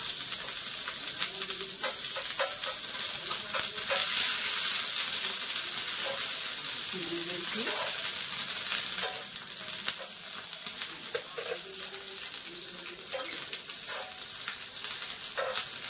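Steady, close sizzling of cooked ginger frying in hot oil on a griddle for tava pulao, with occasional light scraping and stirring, no voices.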